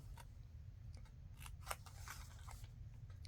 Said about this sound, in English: Just cut it like right on your folded mark.